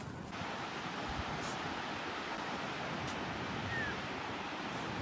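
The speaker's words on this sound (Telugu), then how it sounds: "ఎంత బాగుంది ఓషన్, బ్లూ వాటర్, నైస్." Steady broadband wash of ocean waves at a beach, a continuous surf roar with no distinct breaking crashes, loud and constant throughout.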